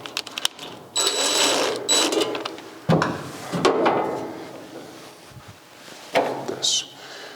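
A power driver whirs in a few short, close bursts as screws go in while work continues on a 1956 Chrysler, with clanks and knocks between runs and a person speaking briefly.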